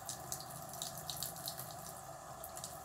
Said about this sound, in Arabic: بغسل وشي كويس جدا